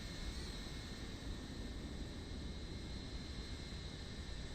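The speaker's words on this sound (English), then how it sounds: "Oh, there's a plane pushing back." Steady broadband jet engine roar and hiss from an airliner pushing back at an airport in Microsoft Flight Simulator 2024, a continuous even rumble with no speech over it.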